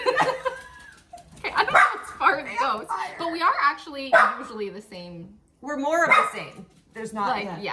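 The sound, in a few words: dogs barking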